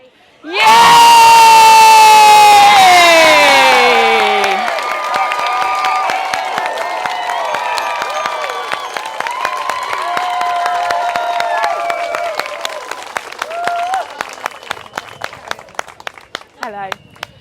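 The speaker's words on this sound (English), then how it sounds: "When they stop, we'll just do a massive cheer." A street crowd at an outdoor Speakers' Corner rally lets out a loud, sudden cheer with shouts and whoops, then applause and scattered claps fading out over the following seconds.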